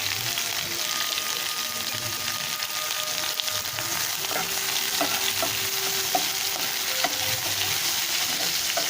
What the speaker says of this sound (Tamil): நல்லா ஆயிலில் ஃப்ரை பண்ணிக்கலாம்